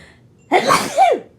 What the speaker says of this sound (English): Hang on, I got some sneeze coming.